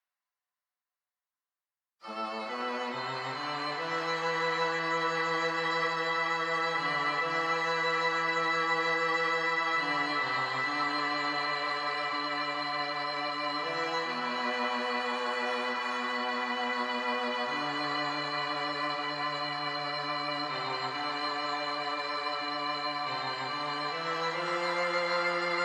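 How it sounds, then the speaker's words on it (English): Two layered violin tracks, one pitch-shifted an octave below the other, play a slow sustained phrase of long held notes that change pitch every few seconds, rich and full, entering after a short silence and continuing steadily without talk. "mix it with a higher pitch violin in order to give it a bit more body and presence"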